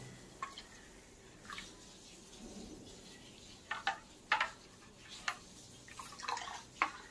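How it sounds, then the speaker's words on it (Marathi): Kokum extract poured into a bowl while making solkadhi, heard as quiet, scattered splashes and drips that grow denser toward the end, with no talking. "तर आपण पहिल्यांदा हा कोकमचा कोळ घालूया."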